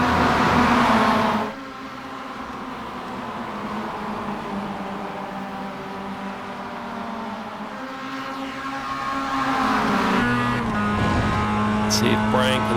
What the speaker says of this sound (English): Coming up on some lapped cars here.